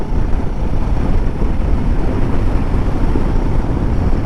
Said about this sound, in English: it has started getting windy